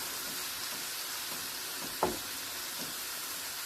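Lettuce wrap filling frying over high heat in a pan, a steady soft sizzle with a brief sharp crackle near the middle, no one talking.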